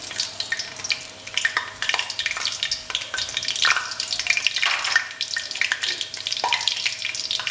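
Whole garam masala spices fry in hot oil for dhaba-style chicken curry, a steady close sizzle with scraping stirs throughout.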